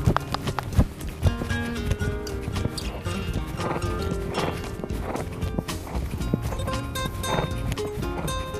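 Horse hooves clop in a steady rhythm during a riding exercise in an arena, close and continuous, with some rustling and occasional sharper knocks mixed in.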